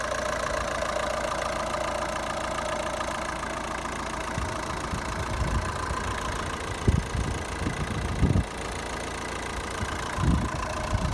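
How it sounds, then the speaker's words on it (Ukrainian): A 2006 Opel Astra H with the 1.7 engine runs steadily at a low, even idle throughout, with a few brief knocks and thumps rising over the close, continuous drone. "Двигун їде добре, досить динамічний."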